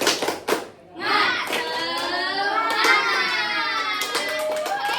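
A group of children clapping together in a classroom clap chant: a few sharp hand claps open, and then a sustained chorus of chanting voices takes over, with occasional claps underneath.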